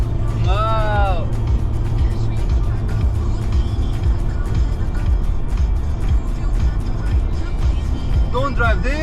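A car cruising at highway speed around 100 km/h on the road toward Toronto, with a steady broadband road and engine rumble throughout, and people talking over it inside the cabin.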